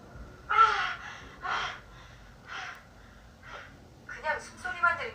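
Cheryl, a worn-out hiker on the Pacific Crest Trail in a film, groans and breathes hard. Several strained, breathy gasps and moans come close and loud, with short pauses between them and a quicker run near the end.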